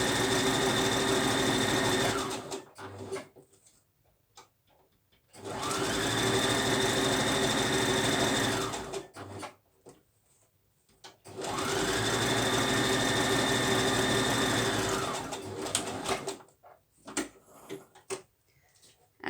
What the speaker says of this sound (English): I'm just going to take them to my sewing machine.